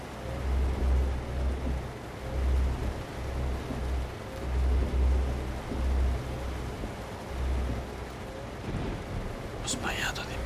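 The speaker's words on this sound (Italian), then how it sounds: "La pioggia è aumentata, come avevo ipotizzato" Heavy rain falls in American Truck Simulator, a steady hiss of rain with low rumbling beneath, while a soft voice talks quietly over it.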